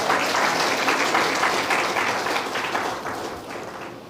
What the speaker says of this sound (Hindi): तालियां बजा के प्रभु को धन्यवाद दीजिए।